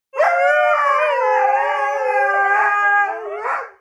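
Several dogs howl together in a kitchen at mealtime, producing a loud, sustained chorus of wavering, overlapping tones that lasts a few seconds before fading out.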